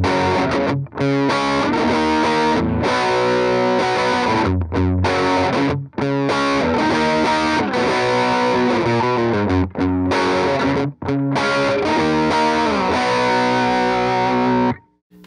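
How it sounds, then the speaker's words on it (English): Electric guitar power chord riffs played through a Reverend Roundhouse overdrive pedal, crunchy and distorted, with choppy rhythmic chugs and brief gaps between phrases, loud and close with no voices. "Definitely sounds great with just some power chord riffs going on"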